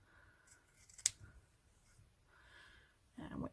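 Scissors give a single sharp snip while trimming the ribbon tails of a handmade hair bow, a quiet close-up cut amid faint rustling, followed by soft handling noise.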